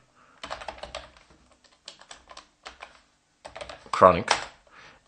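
Someone types a command on a computer keyboard in short bursts of key presses with pauses between, ending in a louder cluster of strokes, all nearby and alone.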